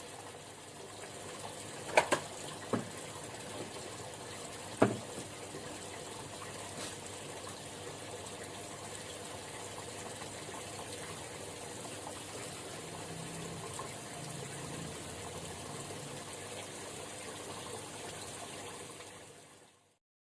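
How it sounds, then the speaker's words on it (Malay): Water pours in a steady continuous flow into a fish farming tank, with a couple of brief clunks near the start, then fades out at the end. "Kita berhentilah, kita masuk air baru."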